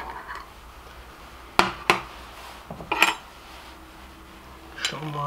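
A jar of homemade Pfälzer liver sausage is opened in a kitchen, with a few sharp clinks and taps of glass and metal close by, separated by short pauses over a quiet background.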